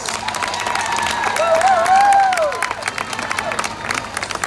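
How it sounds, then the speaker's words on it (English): At a festival closing ceremony, a large crowd applauds with sustained clapping and some cheering, a rising whistle or tonal cry cutting through the middle. "Give them a round, big hand of applause."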